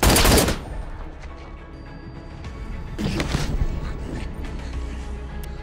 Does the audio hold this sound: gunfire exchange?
yes